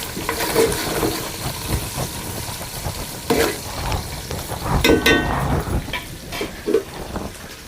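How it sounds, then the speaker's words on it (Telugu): Onions being stirred into chicken biryani cooking over a village wood fire, with close scraping strokes and clanks of a spoon in the pot over a constant background sizzle. "మధ్యలో ఒకసారి ఎర్రగడ్డలను అయితే కలుపుకుందాం"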